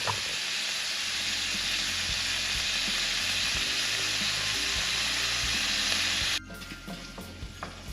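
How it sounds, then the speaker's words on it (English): Andouille sausage browning in a hot pan gives off a loud, steady sizzle with some scraping stirs, then drops abruptly to a quieter crackle near the end. No one speaks. "we are using that andouille sausage. And we're going to give that a moment to brown"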